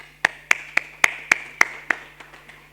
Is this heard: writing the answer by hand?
no